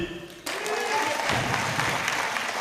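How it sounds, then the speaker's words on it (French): An audience at a live performance breaks into loud, dense applause after a voice briefly speaks, the clapping swelling and holding steady to the end. "Est-ce qu'on peut s'applaudir?"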